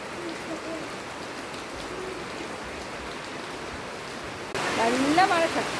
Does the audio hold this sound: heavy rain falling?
yes